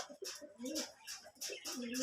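Two tame pet pigeons coo softly and repeatedly nearby, short throaty calls in a loose rhythm with faint rustling between them.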